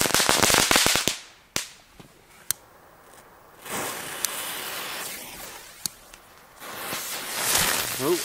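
Old firecrackers from 2005 crackling, a rapid burst of sharp snaps at the start followed by scattered single cracks and hissing fizzes between quieter gaps.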